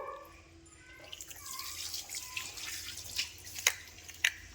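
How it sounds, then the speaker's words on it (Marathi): Running water and splashing with a few sharp drips, close by, no talking, as a face is washed. "तोंड धुवा की, पाणी मारा की."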